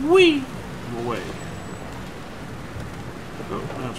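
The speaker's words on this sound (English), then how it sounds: "Oh, now it's raining." Rain pours in the video game Far Cry 2 with distant thunder rumbling beneath a steady, dense hiss, after a brief rising tonal sweep at the start.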